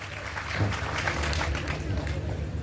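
An audience claps to welcome a performer on stage at a comedy and folk-song program: a dense, sustained burst of applause that swells after a quiet start, with voices mixed in.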